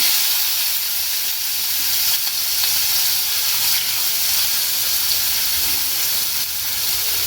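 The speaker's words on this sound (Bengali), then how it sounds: "এখন আমি এর মধ্যে ডাললাম পেঁয়াজ কুচি" Chopped onion tipped into hot oil gives a loud, dense, continuous sizzling hiss close by, steady throughout with no talking.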